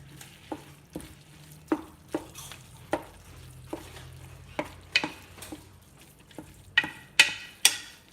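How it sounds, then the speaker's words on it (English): Meat being stirred in a pot of camp stew, giving a run of soft irregular scraping and sloshing strokes with a few sharper clinks of the utensil, moderately close and alone with no talk. "You like the sound of meat sloshing?"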